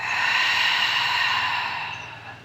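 A long, steady breath pushed out through the mouth during a gentle restorative yoga breathing exercise, close and loud, tapering off toward the end.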